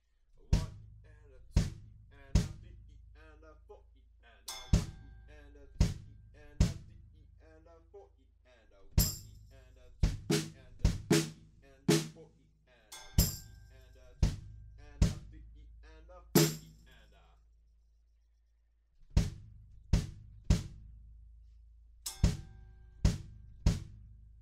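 Drum kit playing a verse of a song as a pattern of stops: sharp, punchy hits with a deep kick and bright cymbal accents, separated by short gaps and one longer pause, close and dry.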